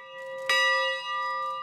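A church bell rings at a bell consecration, one clear strike blooming into a long, steady ringing hum that sustains and slowly fades, heard alone and fairly close.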